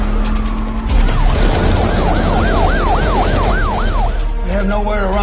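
An ambulance siren wails in a fast rising-and-falling pattern over loud road and engine noise, then shifts to a steadier tone near the end.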